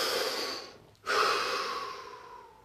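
A person takes a deep breath during a guided relaxation: a long, airy, close-up breath that fades, a brief silent pause, then another full rushing breath that slowly trails off, with no talking.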